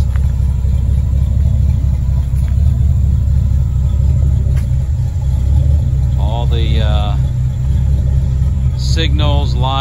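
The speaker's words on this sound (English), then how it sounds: "Flowmaster mufflers make it sound real nice." A 1949 Chevrolet 3100 three-window hot rod truck with a small-block V8 and Flowmaster mufflers idles in a deep, steady, close rumble, while someone talks over it.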